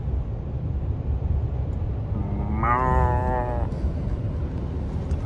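A single drawn-out moo from roadside cattle north of Helmsdale rises mid-clip over a constant low rumble of passing road noise.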